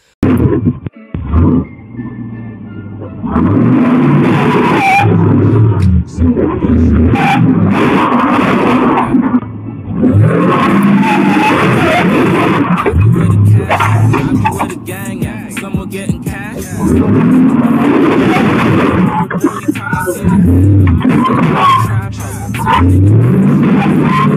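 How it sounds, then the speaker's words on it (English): A stolen truck roars and revs hard in long, loud bursts as it tears out of a parking space, crashing into surrounding parked cars, with short breaks between the surges. "The thief was being extremely aggressive and crashed into all of the other surrounding cars, trying to get out of the parking space as fast as he could."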